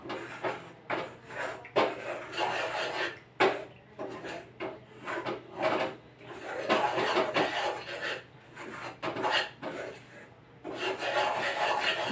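Flour batter for Mysore pak is stirred vigorously by hand, giving close, uneven scraping and swishing strokes in quick irregular bursts with brief gaps throughout.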